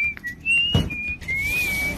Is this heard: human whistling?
yes